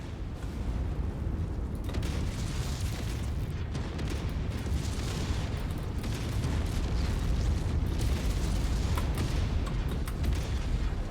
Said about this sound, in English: AC-20 with a clean shot